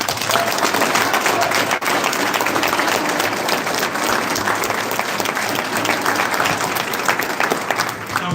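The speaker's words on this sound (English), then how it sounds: "So one more round of applause for these guys." A crowd applauds steadily, dense clapping sustained at even loudness throughout.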